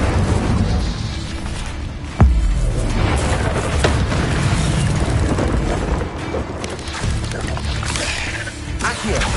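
An Incendio fire spell is cast in a magic video game, bursting in a sudden booming blast early on, followed by continuous rumbling game effects and scattered impacts.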